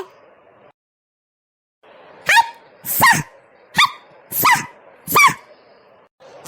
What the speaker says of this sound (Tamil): இந்த நாய் எங்க வந்து குலைக்குது பாரு